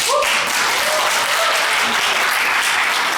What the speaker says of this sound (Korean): 우리 격려해 박수